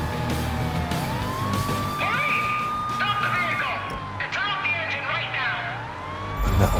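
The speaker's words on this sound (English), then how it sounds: "This is the second chasing police car." A police car siren wails close by in a chase in the video game Heading Out, its rising and falling tone sweeping steadily over a running car engine, while a voice talks over it.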